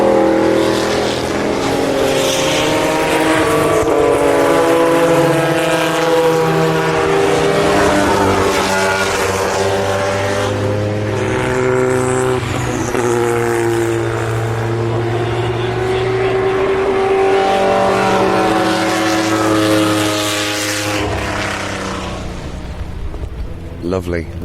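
Historic Le Mans race cars such as Nissans and a Spice car roar past in turn, loud engines rising and falling through long passes, with a voice talking over much of it.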